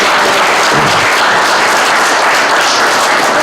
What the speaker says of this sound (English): let's applaud our high school students